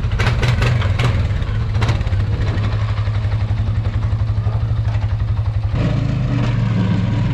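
A pickup truck engine idles with a steady low rumble close by, with a few brief clicks and knocks over it and a shift in tone partway through, no talk.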